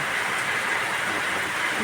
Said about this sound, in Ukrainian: Даже зараз йде дощ, це почав моросити.